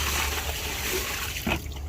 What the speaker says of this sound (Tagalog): babawasan ko muna yung tubig ko kasi masyado marami to